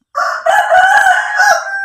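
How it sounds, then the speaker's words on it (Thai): A rooster crows loud and close in one long, full call, with faint clucking from other chickens on the farm behind it. "ไก่นี่คันดีเนาะเสียงดีเนาะ"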